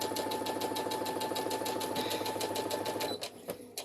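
Sewing machine stitching a seam across a girl's dress piece, a loud, close, rapid rhythmic chatter with a steady hum that stops abruptly near the end, leaving a few clicks.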